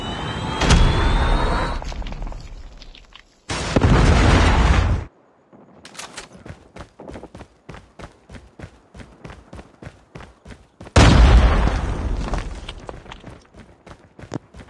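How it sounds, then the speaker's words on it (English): Predator missile explosions in a shooter video game: loud, broadband booming blasts at the start and again near the end, with a burst in between, while rapid footsteps and gunfire patter fill the gaps. "Predator missile inbound."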